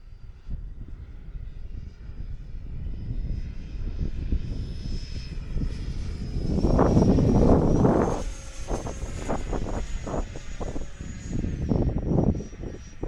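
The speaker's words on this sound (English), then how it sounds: "So the F18 made another appearance here at Liberty Landing." An FMS Super Hornet F18 RC model jet flying at Liberty Landing, a continuous whining electric ducted-fan roar with a rising and falling pitch that swells louder as it passes overhead.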